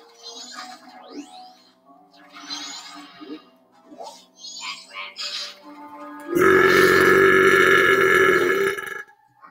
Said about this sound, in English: The victory belch.